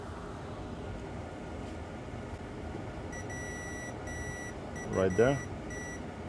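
A multimeter on continuity mode gives a series of short, bright electronic beeps while testing an iPad Pro 9.7 logic board, heard over steady background hum, with a brief spoken remark near the end.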